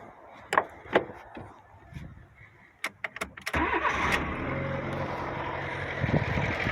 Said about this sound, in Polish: Odpalamy. Słychać, że nie pali na jednym świecie.